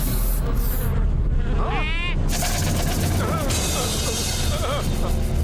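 Cartoon mosquitoes buzz in high, whiny swoops amid a loud, busy animated scene with music and sound effects, several sweeping buzzes overlapping through the stretch.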